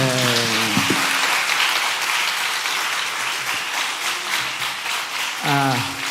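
A church congregation applauds during a Sunday afternoon service, a steady burst of many hands clapping, with a voice speaking briefly at the start and again near the end.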